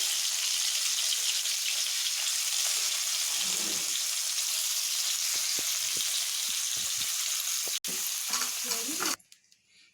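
Paneer frying in hot oil in a kadai, a loud continuous sizzle with scattered crackles and pops, close up. The sizzle stops abruptly near the end.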